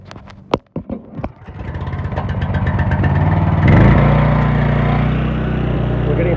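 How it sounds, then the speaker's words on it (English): A gasoline pressure washer engine is pulled to start with choke at half throttle: a few sharp pull-cord rattles, then the engine catches and settles into a loud, steady close-range drone. "Start off the pressure washer."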